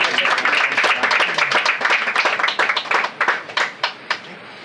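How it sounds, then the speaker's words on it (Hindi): A church congregation claps steadily and energetically, the applause thinning into a few scattered claps as it fades out. "क्यों ना हम जोरदार ताली बजाते हुए उन्हें परमेश्वर की"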